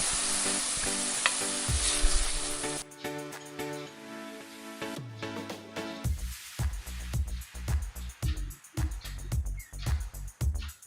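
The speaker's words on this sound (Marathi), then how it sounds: "कांद्याला आपल्याला लाल होईपर्यंत परतायचा आहे" Chopped onions with salt stir-fry in a pan for Kolhapuri whole masoor, starting with a loud continuous sizzle, then giving way to a run of scraping, knocking stirring strokes against the pan, close up and without talk.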